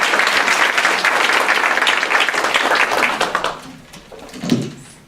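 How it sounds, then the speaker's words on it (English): A room of nurses claps together at a hospital award ceremony, loud and full at first, then thinning and fading out, with a soft thump near the end. "Give yourselves a round of applause."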